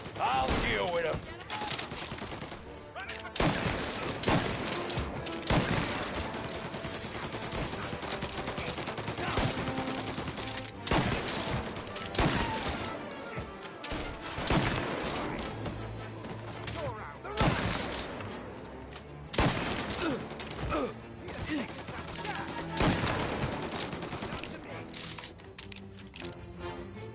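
Gunfire in the video game Mafia: Definitive Edition, with dense, repeated shots and bursts of automatic fire crackling through a long shootout over game music and effects, and voices calling out at times.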